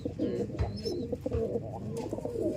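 Pigeons coo in soft, low repeated phrases close by, a pet hen among the birds, with some faint background rustle.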